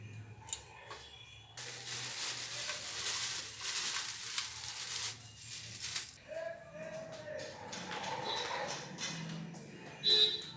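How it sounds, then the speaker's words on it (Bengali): Whole dry red chillies hit hot oil in a frying pan and crackle into a loud, steady sizzle that lasts several seconds before settling into quieter frying with a few clinks of utensils. "তারপরেই ঢালবো গোটা শুকনো লঙ্কা"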